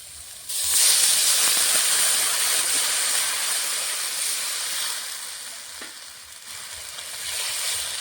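Water poured into a hot pan of fried peas, carrots and onions sets off a sudden loud, broad hiss that holds for several seconds and then slowly fades to a gentler sizzle, close and without talk.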